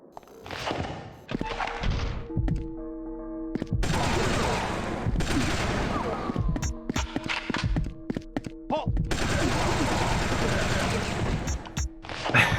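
Assault rifle gunfire in Dead Space 3, bursts of shots and thumping impacts in several loud stretches, mixed with game music tones and some talk.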